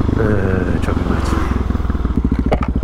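A Husqvarna 701 Supermoto single-cylinder engine chugs at idle close by, with a steady loud pulsing throb and a few faint clicks over the top.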